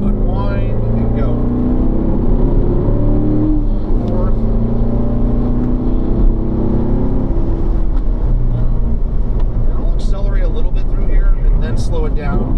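A car on a hot lap brakes, downshifts and accelerates, its engine note dropping and then climbing again, while someone talks over the steady, close engine drone.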